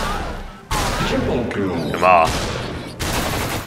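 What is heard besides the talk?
gunfire in video game The Walking Zombie: Dead City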